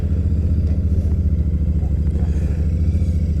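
Royal Enfield Super Meteor 650 motorcycle on the move, a close, loud, steady throbbing engine pulse with a low rumbling rhythm and wind noise.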